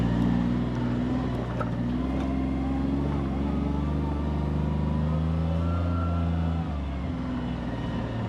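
A 2022 Nissan Titan XD pickup crawls through off-road holes, its engine droning in a steady low rumble with slight revving surges, close and continuous.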